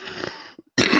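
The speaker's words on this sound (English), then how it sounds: "That is a productive coughing up my lung here." A person's harsh, productive coughing, heard close up as rough, wet bursts that break off briefly and then return loud, with no talking.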